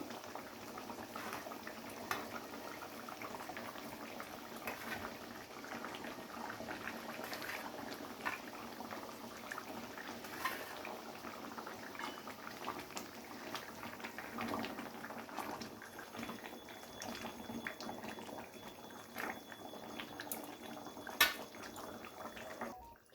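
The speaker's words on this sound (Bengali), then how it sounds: "আলুটাকে ঝোলের সাথে কিছুক্ষণ ফুটিয়ে নেওয়ার পরে এবারে দিয়ে দিচ্ছি মাছগুলো" Wedding-style rohu fish kalia gravy with potatoes boiling in a pot, a steady, faint bubbling simmer with scattered small pops that carries on evenly throughout.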